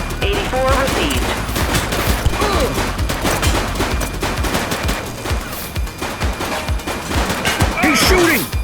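Dense, chaotic gunfire fills a police shootout in the game The Precinct, rapid overlapping shots rattling continuously at full loudness with other battle noise mixed in.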